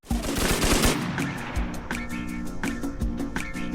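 A mounted LMG fires in a VR shooter game, a rapid close burst of machine-gun shots followed by a steady rattle of repeated gunfire, loud and without voices.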